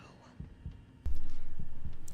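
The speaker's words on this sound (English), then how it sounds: "As we stand here and listen to Jill's heartbeat" Jill's heartbeat in the Resident Evil 3 Remake video game thumps low and steady, starting quietly and then pounding loudly in a fast, even rhythm.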